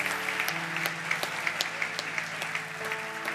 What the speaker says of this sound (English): Can we give these families a round of applause?